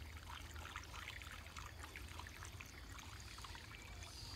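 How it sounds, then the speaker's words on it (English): Water is poured through a funnel into a small tube in a self-wicking garden tub, giving a steady, faint trickle and splash that runs unbroken with no talking. "And dump my water in."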